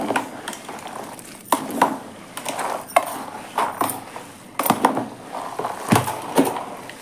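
Spoon stirring soaked dried turkey berries in buttermilk, a thick mixture giving repeated close wet scrapes and soft clinks against the vessel, alone without talk.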